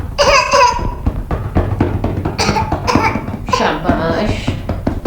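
A child with a cold and cough coughs repeatedly in short, close bursts during home nebulization, mixed with breathy, giggle-like sounds.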